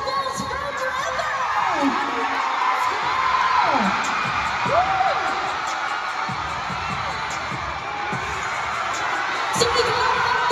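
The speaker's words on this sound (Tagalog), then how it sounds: "Alright, everybody, let's give it up for River and Yahoo!" Crowd cheering and whooping at a basketball showcase event in an arena, a steady roar of many voices with rising whoops and shrieks throughout, while an announcer talks over the noise.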